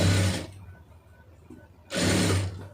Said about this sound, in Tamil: இது அப்படியே மடித்து ஒரு தையல் போட்டுருங்க